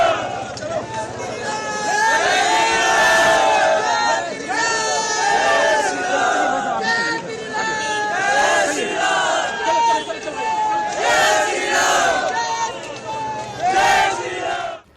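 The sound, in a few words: crowd chanting Jai Shri Ram slogans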